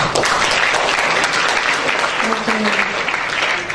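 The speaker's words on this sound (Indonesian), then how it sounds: "Kita boleh berikan aplaus" Dense, sustained applause from a campus event audience fills the room loudly and evenly, with voices mixed into the crowd noise.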